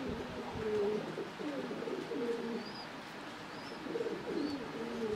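Pigeons coo repeatedly inside a pigeon house full of large, healthy birds, their low rolling calls overlapping in a steady chorus with a few faint higher chirps above.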